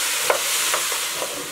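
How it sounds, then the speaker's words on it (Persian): Chopped pumpkin, apple, ginger, onion and garlic sautéing in a pot, a steady close hiss of frying with a few soft stirring scrapes and no voices. "میخوام فقط یک مقدار خیلی کم تفت بدم و اون بوی خامی زنجبیل و پیاز و سیر رو ازش بگیرم"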